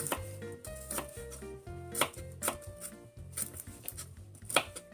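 A knife slices garlic cloves on a board in a steady series of crisp, close chops, some harder knocks landing among quicker cuts, for a home-style paksiw na sapsap fish dish, with no talk.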